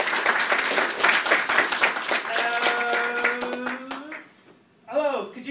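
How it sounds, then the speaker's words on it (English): An audience at a BBC Micro anniversary event claps steadily for about four seconds with voices mixed in. The applause dies away and a short burst of speech follows at the end. "Okay, give them a round of applause."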